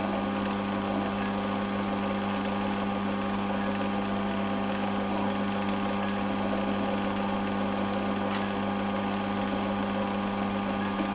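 A lathe runs while pivots are polished, giving a continuous, even motor hum with a steady tonal drone and faint rubbing hiss that holds throughout.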